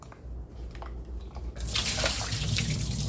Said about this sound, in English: So you can pull this out and dump all the water.